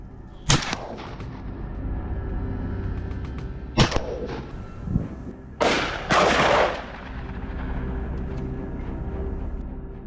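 AR-15 rifle shots ring out during a wild boar hunt, several sharp reports spaced irregularly over a low rumbling background, the later ones bunched closer together.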